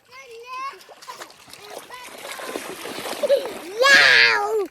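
At a campsite, a child bathes in water while children chatter and squeal throughout, with light splashes scattered under the voices and a louder burst of splashing and shrieking near the end.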